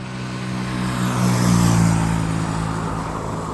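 An airplane lifts off the runway with its tyres leaving the ground, heard as a loud, steady engine roar with a low hum that swells slightly midway and then holds.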